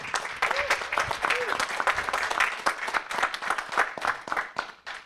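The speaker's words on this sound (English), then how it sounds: "Save the big applause for the end." Audience applause at a health tech venture capital panel, a steady mid-level patter of many hands clapping, with a few brief voiced calls over it.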